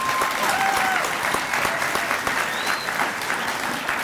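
Sustained audience applause for Tucson Unified School District graduates at a winter commencement ceremony, a steady wash of many hands clapping in a large hall, with faint whistles or cheers above it.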